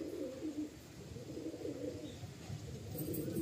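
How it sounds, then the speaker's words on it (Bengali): Pigeons at a loft coo in soft low throaty rolls, quiet and close, with faint background noise around them. "এই একজোড়া পায়রা দেখুন"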